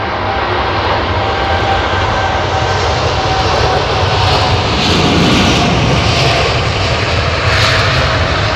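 A Boeing 787 Dreamliner jet departing Heathrow roars loud and steady at full takeoff power, a continuous broadband engine rumble with no talk.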